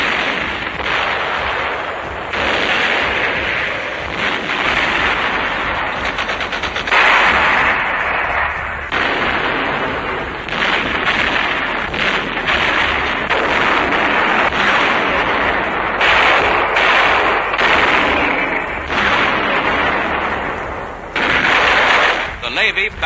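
Battle gunfire and artillery fire from the fighting on Iwo Jima, rendered as a dense, continuous barrage of loud cracks and booms with rapid bursts throughout, no pauses.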